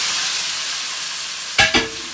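Beef stir-frying in an omelette pan gives a steady, loud sizzle, broken near the end by two quick scraping stirs.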